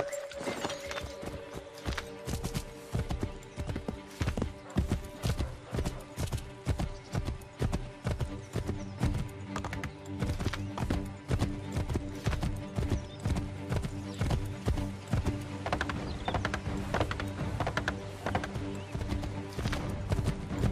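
Horse hooves pound in a steady, rapid gallop through a forest in Assassin's Creed III, loud and close throughout, with an occasional whinny over the rhythmic clip-clop.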